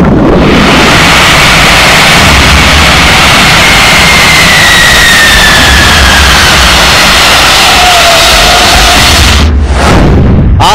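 Aircraft jet engines roaring during a crash landing, a loud, dense, continuous rumble with a faint rising whine, close and overwhelming, ending in a brief sweeping whoosh.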